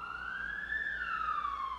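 Police siren wailing during an early-morning arrest raid on a residential street in Leblon, Rio de Janeiro; a single steady rising-and-falling tone, fairly close and loud, with no voices.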